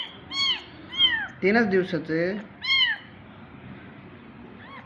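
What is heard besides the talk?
abandoned kitten meowing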